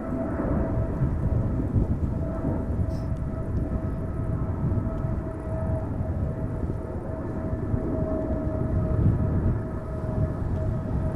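An Emirates SkyCargo Boeing 777 climbs steeply after takeoff from Amsterdam Schiphol, a steady broad engine roar with a faint whine that holds loud and constant with no talk.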